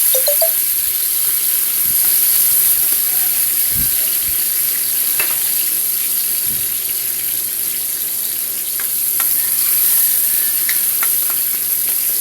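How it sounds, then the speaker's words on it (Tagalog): Chopped tomatoes being sautéed in a pan for ampalaya, a constant bright sizzle with occasional clinks and scrapes of a utensil against the pan, close and alone without talk. "Ayan, nag-isa lang natin ang kamatis."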